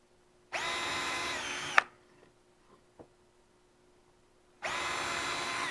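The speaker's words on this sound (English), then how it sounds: "so I don't drill into the table. I'm going to do 1 hole" A power drill bores holes in wood while building a gumball box: two sustained whining bursts, each over a second long, separated by a pause with a few small knocks, loud and close with no talking.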